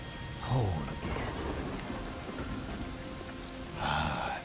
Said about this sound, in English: I could do without the rain.